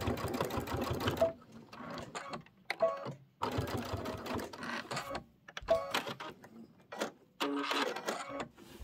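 Domestic sewing machine stitching an organza embellishment onto a quilt, running in several short bursts of rapid mechanical stitching separated by brief pauses, close and fairly quiet.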